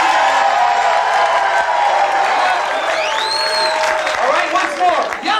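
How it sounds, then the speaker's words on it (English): An audience cheers for the red team at a McDonald's McMagical Circus show, a loud sustained crowd roar with whoops, shouting voices and scattered clapping. "Let's cheer for the red team."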